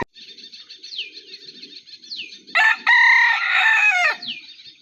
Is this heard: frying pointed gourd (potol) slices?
no